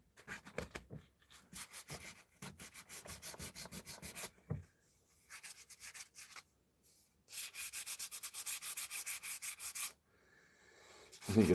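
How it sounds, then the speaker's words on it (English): Hand sanding smooths the edges of a wooden back scratcher in a workshop, repeated close scratchy rubbing strokes in bursts with short pauses, then a long steady run of fast strokes. "Just smoothing her off nice as well."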